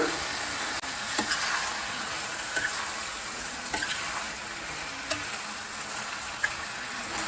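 Chopped tomatoes with a little turmeric powder fry in a pan, giving a steady close sizzle with occasional scraping stirs and clicks of a spoon, no voices.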